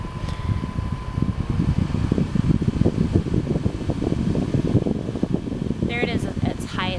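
A Dyson Air Multiplier fan runs at its highest speed, producing a loud, steady rushing whoosh of air close to the microphone, with a brief voice near the end.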